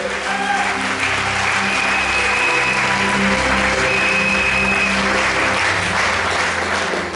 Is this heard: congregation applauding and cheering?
yes